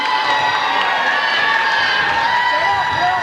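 A crowd in a packed gym at a basketball championship game cheers and shouts continuously, including children's voices, loud and close throughout.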